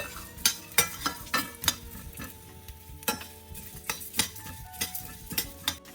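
Pepper and coriander seeds fry in a pan for Milagu Kuzhambu, a soft sizzle broken by a stirring spoon that scrapes and clinks in irregular sharp knocks, close and fairly quiet, with no talking.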